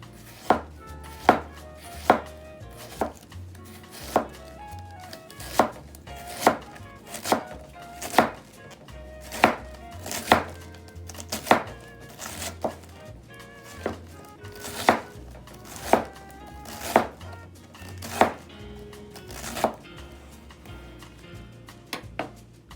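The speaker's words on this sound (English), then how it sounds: "put the knife to the edge. Start slicing it. Try to slice it really thin." A knife slices vegetables thinly on a cutting board for vegan egg foo yung, making sharp, evenly spaced chops in a steady rhythm of about one per second, close and clear.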